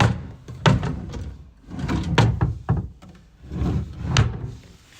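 Drawers in a rental property's furnished room sliding open and shut, several dull thunks and wooden scrapes in an irregular rhythm, close by and moderately loud with no talking.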